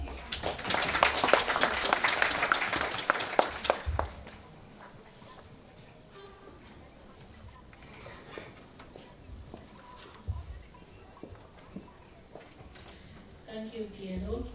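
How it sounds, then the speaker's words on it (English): An audience at the commissioning ceremony of a health and wellness centre applauds loudly for about four seconds. The clapping then fades out, leaving quiet room sound with a few faint knocks. "another round of applause, please"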